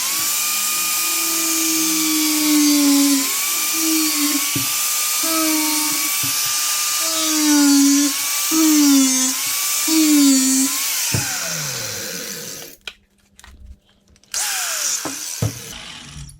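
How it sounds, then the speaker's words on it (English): An angle grinder cuts through a metal part on a KTM 530 tracker motorcycle build, loud and close, its high whine rising and dipping with the load in repeated passes before cutting out near the end. "Now I'll go through with the grinder, link all my lines up"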